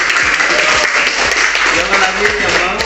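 Steady applause from a classroom or hall crowd at a school training session, loud and continuous for a few seconds, with voices mixed in.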